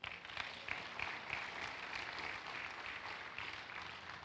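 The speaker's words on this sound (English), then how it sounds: "Clap for Jesus." A church congregation at a cathedral service claps together for Jesus, a fairly faint but sustained, even wash of hand claps with no talking over it.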